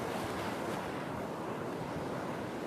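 Ocean waves wash steadily onto the shore at Kauai, Hawaii, a continuous, close, broadband rush of surf with wind buffeting the microphone throughout.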